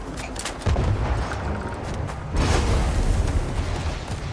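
Gunfire rings out in the video game Starfield, with dense, loud booming shots and rumbling blasts that run continuously and intensify midway.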